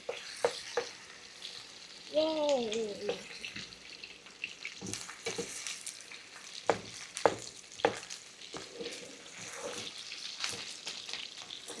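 Food frying in a pan for French fries, with a broad sizzling hiss running throughout, plus a few sharp clinks and stirring knocks; no one speaks.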